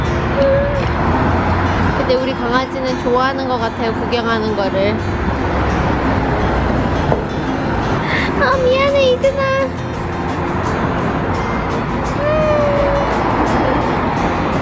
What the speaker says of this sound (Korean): 도로가 쪽에 앉아서 너무 차소리가 심해